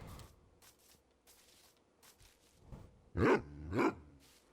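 Dog barking in a video game where the player is taming dogs with bones: two loud, close barks in quick succession near the end, following a stretch of soft footsteps and quiet game ambience.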